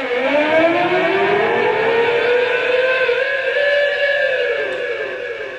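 Electric guitar played for sound effects during a studio live radio session, producing a loud, sustained wailing tone with slowly sliding, siren-like pitch sweeps, with no voices.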